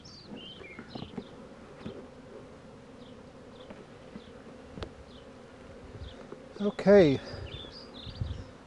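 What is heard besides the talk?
irritated honeybees buzzing around hive during varroa mite dusting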